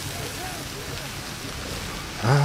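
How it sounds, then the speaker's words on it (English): Steady rain falls in the Resident Evil Village VR game, a constant wash of droplets that stays even and moderate throughout, with a louder thump near the end and voices faintly present underneath. "It's raining."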